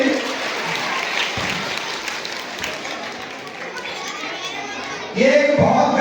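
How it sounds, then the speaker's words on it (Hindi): Clapping from a crowd at an outdoor Hindi-language gathering tied to a local municipal election and Ramlila event, a broad continuous wash of applause mixed with children's voices and chatter, rising louder near the end. "इधर एक बार जोर से ताली बजाइए।"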